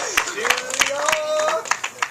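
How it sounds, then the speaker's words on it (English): A meeting audience at a cannabis coalition gathering gives scattered, uneven hand claps that are fairly close, with a voice and other room sounds mixed in. "So give a little applause to New York being the 21st state."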